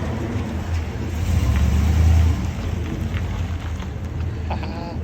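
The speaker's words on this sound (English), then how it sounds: "Chevy Suburban. BORLA Pro Access True Duals." A 1998 Chevy Suburban 5.7L V8 with Borla Pro-XS true dual exhaust and X-pipe, a deep rumbling idle swelling into one loud rev before settling back, close by.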